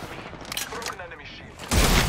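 Gunfire in Apex Legends comes in brief rattling bursts under speech, then a loud, dense volley erupts near the end and holds at full strength.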